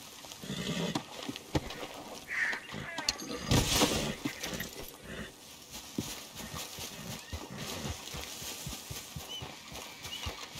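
A horse in Red Dead Redemption 2 clip-clops along with a sharp whinny and some clattering, the hooves steady and fairly close beneath a low, busy game soundscape.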